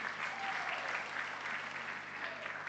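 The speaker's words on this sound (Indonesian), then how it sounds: "Mari berikan tepuk tangan yang meriah kepada panitia" A church congregation gives the Christmas event committee a round of applause at a Christmas Eve service, steady dense clapping holding at a moderate level with a faint murmur underneath.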